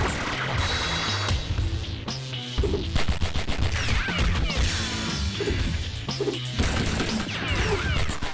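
Video game gunfire effects crackle in dense, rapid bursts over a busy layer of other game sounds, loud and continuous throughout.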